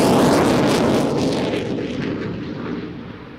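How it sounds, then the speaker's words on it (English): A MiG-29 fighter jet roars past, a loud broad rushing blast at first that gradually recedes and thins as it moves away. "Here it comes for you. With a MiG-29."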